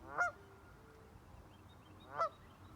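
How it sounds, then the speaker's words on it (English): A big goose honks outdoors fairly close by, giving two distinct loud honks about two seconds apart over quiet ambient background. "Big goose not too far from me right there."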